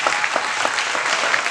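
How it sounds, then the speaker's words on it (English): An audience at a youth rec football and cheerleader banquet giving the players a round of applause, a dense, continuous roar of many hands clapping, loud and sustained throughout. "Go ahead and give the hands, the claps, to the boys and a round of applause"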